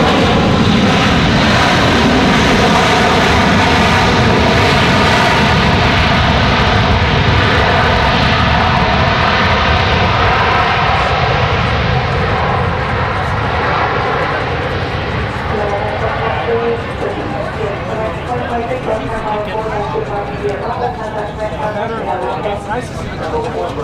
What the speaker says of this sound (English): that's American 2023 coming in from Charlotte